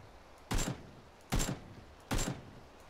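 Three evenly spaced gunshots ring out in the battle royale game PUBG, each a sharp crack with a short tail, sounding somewhat distant and fairly quiet.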